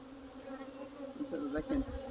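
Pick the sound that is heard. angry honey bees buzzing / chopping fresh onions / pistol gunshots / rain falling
angry honey bees buzzing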